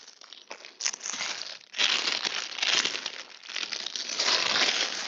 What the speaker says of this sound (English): Can you hear me rustling through all my stuff?